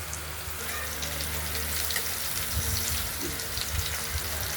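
Ash gourd slices stuffed with a paste of poppy seeds and raisins frying in hot oil, a continuous close, busy sizzle with steady crackle and no pause, heard without talking.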